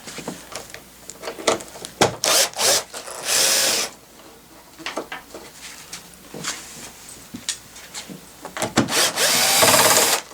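Power tool whirring in repeated bursts to remove bolts near the cowl of a 2011 Nissan Xterra, loud and close, with ratcheting clicks between the runs and one longer sustained spin.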